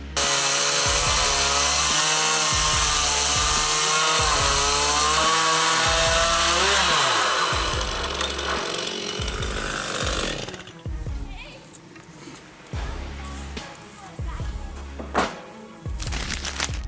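A chainsaw cuts wood in a forestry setting: a loud, continuous high engine whine under load for several seconds, then idles down in pulsing bursts, with a voice talking over it.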